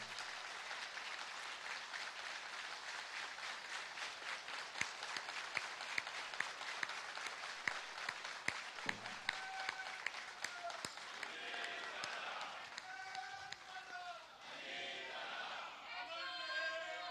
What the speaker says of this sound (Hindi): अभी तालियां बजा के आपण टाळ्या वाजून या घोषणेचा स्वागत केला आहे।